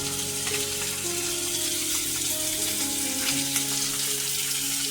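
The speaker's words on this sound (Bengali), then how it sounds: "অল্প করে মানে অল্প তেলেই ডিমটা ভাজা করে নিতে হয়" An egg fries in a small amount of oil, giving a steady, close sizzling hiss throughout, with quiet background music beneath it.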